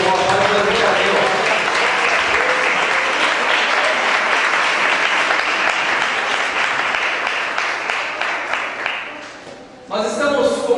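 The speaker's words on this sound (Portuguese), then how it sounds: "Vai aplaudir o Senhor, vai glorificar a Deus." Church congregation applauding loudly and continuously, a dense wash of clapping that fades slightly before a brief voice comes in at the end.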